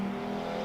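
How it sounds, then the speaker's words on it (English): Racing cars in Assetto Corsa at a virtual Goodwood Revival: a steady engine drone with a sustained tonal hum, car approaching from behind, brief and fairly loud. "Can hear cars coming, there's one behind me"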